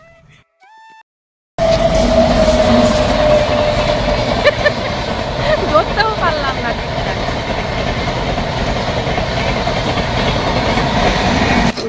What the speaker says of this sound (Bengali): আর এখানে ট্রেনও চলে এসেছে।